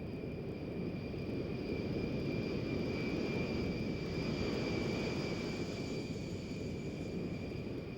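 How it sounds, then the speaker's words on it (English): A C-141 transport plane approaches an airstrip at Wright-Patterson Air Force Base, its jet engines a steady, distant roar with a thin high whine running throughout. "This C-141 transport plane is approaching the same airstrip on which the C-124 landed"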